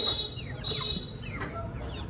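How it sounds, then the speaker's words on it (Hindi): Backyard hens cluck in short, soft bursts while being fed pieces of roti flatbread, with scattered calls repeating close by over a steady low murmur. "ये देखें सारी मुर्गियाँ आ गई यहाँ पर"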